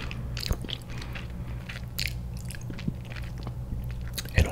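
Oreo cookies-and-cream ice cream sandwich cookies being bitten close up, with a few soft, scattered crunchy bites and chewing over a quiet, steady hum.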